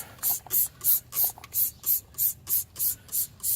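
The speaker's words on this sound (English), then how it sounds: "you're just going to spray the foamy stuff all over your wheel" Rapid, rhythmic bursts of a trigger spray bottle spraying foam cleaner onto a car wheel and tire, about a dozen sharp hissing pumps in a row, close and loud.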